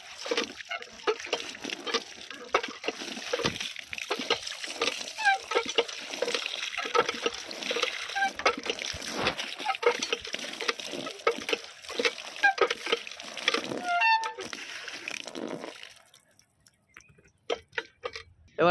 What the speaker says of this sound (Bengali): এবার আমরা ধোয়ার প্রসেসটা চালু করলাম, ধুয়ে নেবো ভালো করে সরঞ্জামগুলো।